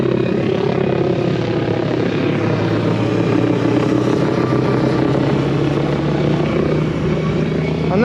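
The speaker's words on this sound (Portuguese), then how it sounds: "anda lá em cima um helicóptero" A helicopter drones steadily overhead, its rotor chop and engine hum constant and fairly loud throughout.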